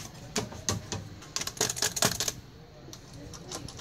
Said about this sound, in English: Got an old typewriter.